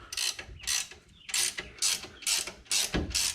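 A hand ratchet runs down lift kit bolts on a Jeep XJ, giving a series of close, crisp clicking strokes in a steady back-and-forth rhythm with a short pause partway through.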